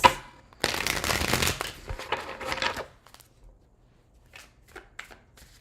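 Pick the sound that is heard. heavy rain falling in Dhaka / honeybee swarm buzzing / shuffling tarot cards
shuffling tarot cards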